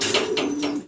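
A pair of Modena pigeons on a farm coos close by, one long sustained throaty coo with rising pulses, loud and alone without speech.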